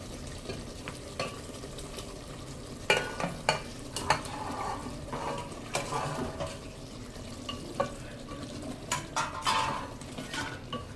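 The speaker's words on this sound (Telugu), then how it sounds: "మంచిగా ఫ్రై అయినాక ఇందులో ఎగ్స్ యాడ్ చేసుకుందాం" Eggs fry in a pan for an egg biryani while a spoon stirs them. Steady sizzling sits under repeated metallic scrapes and clinks of utensil against the pan, all close up with no voices.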